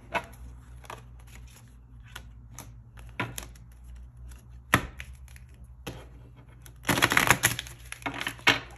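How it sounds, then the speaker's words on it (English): A tarot deck is handled and shuffled during a reading: scattered soft taps and card slaps, then a louder riffling burst near the end, with no voices. "I am now shuffling the cards"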